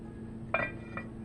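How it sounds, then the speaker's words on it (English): A lid set back onto a pot of homemade filé gumbo gives one soft clink, with a fainter second tap just after, close by and quiet over a low kitchen hum. "I'm going to put the top back on it and let it continue to cook"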